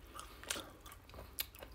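Quiet, close bites into a crunchy peanut pastry filled with peanut butter, crisp outside and slightly chewy inside, with two distinct crunches against a faint background hiss.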